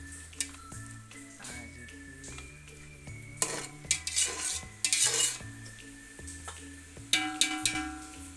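Tomatoes frying in a pan for hostel-style puliyogare: a metal spoon clanks and scrapes against the pan in irregular bursts over a faint sizzle, with no voices.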